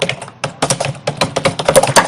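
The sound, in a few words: keyboard typing sound effect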